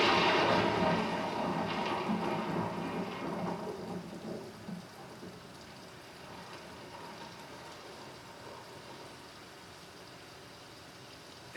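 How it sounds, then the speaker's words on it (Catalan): Heavy rain pours steadily with a deep roll of thunder that is loudest at the start and fades out, leaving a constant wash of downpour. "De sobte es posa a ploure."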